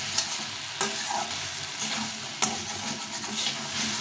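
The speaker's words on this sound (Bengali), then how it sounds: "এটা ভালো করে নেড়ে নিলে আমার তরকারিটা রান্না হয়ে যাবে।" Brinjal curry with dry-roasted spices cooking in a pan, stirred with a spatula: a steady frying sizzle with two sharp scraping strokes against the pan, close and clear, with no voices.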